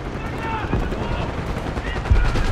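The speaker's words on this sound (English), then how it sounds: "We've got gunfire to the right." Gunfire rattles in the Call of Duty: Black Ops 6 campaign, dense loud bursts of automatic weapons fire over a constant roaring battlefield din.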